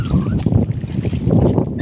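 Strong seaside wind gusts buffet the microphone in loud, rough bursts, mixed with the wash of choppy sea waves, close and constant.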